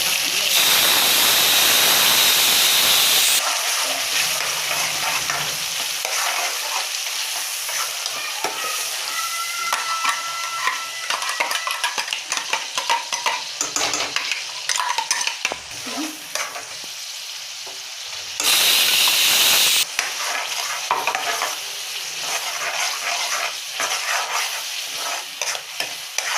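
Onion-tomato masala paste with ginger, garlic and cumin fries and is stirred for chole, a loud steady sizzle with scraping spoon strokes and brief hissing surges, close up.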